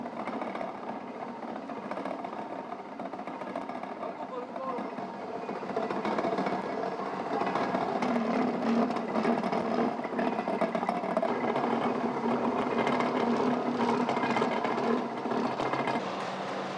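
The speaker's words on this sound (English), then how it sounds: "A typical task is reprofiling a wheel after the pits on the surface have been filled." Machine reprofiling a railway wagon wheel in a foundry workshop on an Eritrean railway: a steady mechanical whir and hum that holds throughout and grows slightly louder and denser partway through, with no talk.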